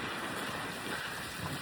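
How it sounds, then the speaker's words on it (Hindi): Strong wind blowing outdoors in a Canadian city, a steady loud roar of gusts buffeting the microphone with no voices. "बहुत तेज़ हवा चल रही है"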